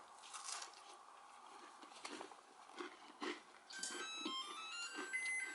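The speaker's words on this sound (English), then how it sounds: "Hear the crunch?" Crunchy snickerdoodle cookies being bitten and chewed close up, quiet crisp crunches in an irregular rhythm, with faint chiming tones entering near the end.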